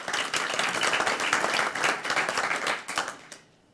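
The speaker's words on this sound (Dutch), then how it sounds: "Mag ik een applaus voor Hans Heesen?" Applause for Hans Heesen, culture alderman, at a Dutch talk event: dense, lively clapping from a small crowd, sustained for several seconds before thinning and stopping abruptly.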